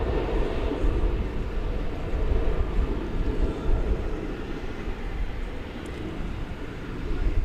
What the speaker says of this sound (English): This United plane, which has been not stuck, but it's been waiting to take off for quite a while